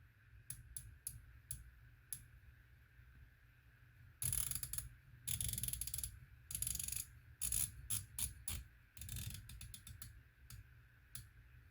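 Athlon Helos BTR Gen 2 6-24x56 riflescope turrets twisted by hand, giving crisp, rapid ratcheting clicks in quick bursts and runs, close and fairly loud against a quiet room.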